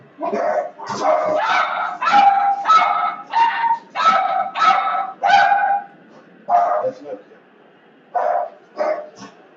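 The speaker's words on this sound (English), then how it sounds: "FedEx is at the door. The dogs are going crazy." Several dogs bark excitedly at a delivery arriving at the front door, in a rapid, loud run of barks with short pauses and a few yips, close by.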